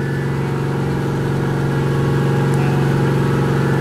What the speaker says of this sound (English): We're already 16 degrees more just by revving it up.